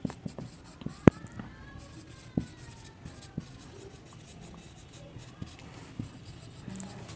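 A pen or marker writes by hand on paper or a board during a class 10 chemistry lesson on acids and bases, giving soft, quiet scratching strokes with a few light taps over a low room hum.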